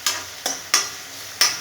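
Garlic fries in oil in a pan, with four separate scraping stir strokes over a soft sizzle, close by and without talking.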